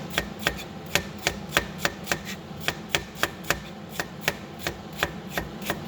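A knife chops vegetables into inch-long pieces for pancit miki noodles, steady rhythmic taps on a cutting board at about three per second, close and clear over a low room hum.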